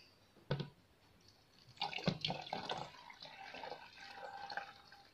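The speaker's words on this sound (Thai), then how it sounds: "เท่ากับเอาน้ำใส่เข้าไปลิตรนึงเนาะ" Clean tap water, about a liter, poured into a container to culture Trichoderma fungus, giving a splashing, trickling flow that starts after a brief knock and runs steadily for several seconds at moderate volume.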